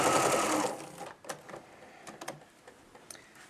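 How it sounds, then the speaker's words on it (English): A sewing machine stitches a quarter-inch seam through a rectangle of fabric for quilt borders, a loud steady run lasting about a second, then stopping, followed by faint scattered clicks and handling noises. "go over to the sewing machine, and sew an accurate 1/4 inch seam"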